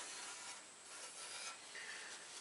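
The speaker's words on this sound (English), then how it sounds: "just final wipe down here of the mating surfaces" A rag wipes the engine cover mating surfaces on a Suzuki truck V6, a soft, continuous rubbing hiss. It is faint and close, with no voices.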